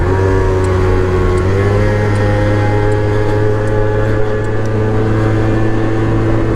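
A Yamaha BWS 100 scooter fitted with a full Malossi CVT setup pulls hard uphill, its engine holding a loud, steady drone with little change throughout and no talking.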